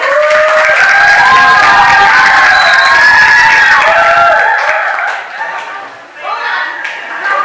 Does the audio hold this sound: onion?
no